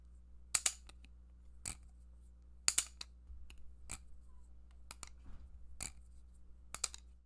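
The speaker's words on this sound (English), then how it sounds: "Without the silencers, the plastic clack it makes feels more light and accentuates the fact that it's plastic." A plastic Squid Industries Squiddy-U trainer knife is flipped without silencers, giving a string of sharp, light plastic clacks at irregular intervals, close and fairly quiet.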